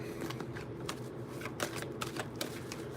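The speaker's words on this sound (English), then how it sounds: "One more shuffle." Rapid papery riffling of tarot cards being shuffled, a steady flutter with a few sharper snaps, close up and with no talking.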